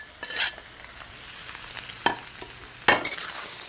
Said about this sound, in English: Gently saute it just for a minute until all the spices and the curd are mixed.